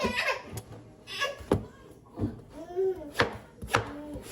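A knife chops through a soft, fresh bottle gourd (lau) from a home garden in sharp irregular strokes, with brief voices and small sounds of movement between the cuts.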